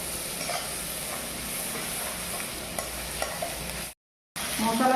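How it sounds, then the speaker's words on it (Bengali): Cumin powder, pasta masala and garam masala are stirred in hot oil in a pan, producing an even, hissing sizzle with soft stirring scrapes, interrupted by a brief dead gap near the end before the frying resumes. "কিছুক্ষণ নেড়ে চেড়ে নেব।"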